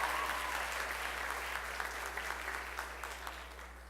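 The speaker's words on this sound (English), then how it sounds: "One more round of applause for Kyle." An audience at a school spring band concert applauds a student award recipient, a continuous wash of clapping at moderate distance over a faint steady mains hum, tapering slightly by the end.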